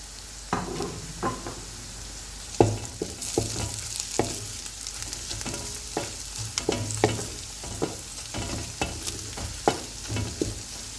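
Close, steady sizzling of whole spices frying in a pan for chicken biryani, broken by frequent scrapes and clacks of a spoon stirring.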